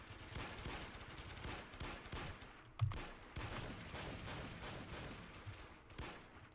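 Gunfire in the FPS game Warmode with heavy and assault rifles, a dense, continuous rattle of rapid shots heard close and loud, broken by one brief pause and a sharper crack before the firing resumes.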